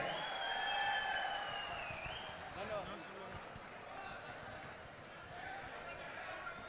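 Applause and crowd noise at a felicitation program in Bidar, where dignitaries are honored with a silver mace; the clapping swells early on, then fades into a steady crowd murmur under a voice on a loudspeaker.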